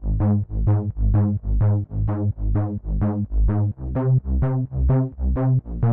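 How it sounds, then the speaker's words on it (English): A plucky synth sub bass plays a bouncy, steady pattern, each short note decaying fast, alternating between low notes and offbeat jumps an octave up. "they use a plucky sub and they do these octaves"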